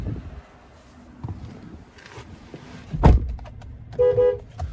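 A 2024 Chevrolet Silverado 1500 LT Z71 with a 5.3 liter V8 gives a short, sharp horn toot near the middle, followed by a brief electronic chime, against quiet cabin noise.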